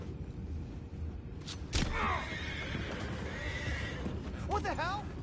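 Horses neigh in a PS4 video game: two clear, rising whinnies, the first near the two-second mark and the second close to the end, over steady outdoor ambience with voices talking.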